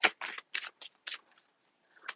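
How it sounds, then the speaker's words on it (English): A deck of cards being shuffled up close, several short crisp riffling bursts with brief gaps between them, quiet and with no talk. "Get a good shuffle in."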